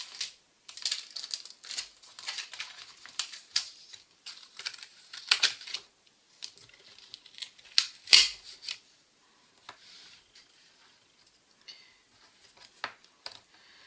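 Paper motifs for a greeting card being cut out by hand, quick crisp snips and papery rustles in uneven clusters, close and fairly quiet, with a louder crinkle midway and gaps of near silence later.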